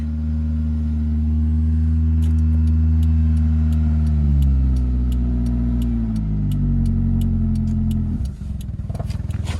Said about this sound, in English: She's got a rough idle to her.